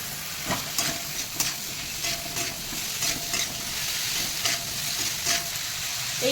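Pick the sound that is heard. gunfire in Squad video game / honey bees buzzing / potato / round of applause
potato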